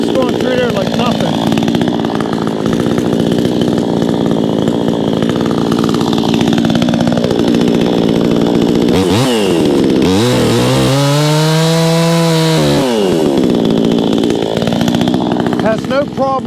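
A Vevor 20-inch chainsaw saws through wood, its engine holding a loud, steady rasping drone that dips and rises in pitch as the chain loads and frees mid-cut, close and continuous throughout.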